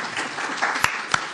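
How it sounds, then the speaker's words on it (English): A small audience at a company annual general meeting claps briefly, a short patter of scattered hand claps with a couple of sharper, closer claps standing out. "that small applause was initiated by my predecessor in this role"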